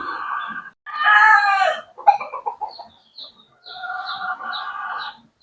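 Chickens cluck and a rooster crows in a farm yard of fighting roosters after a storm, with bursts of crowing and clucking close by, separated by short pauses and no talking.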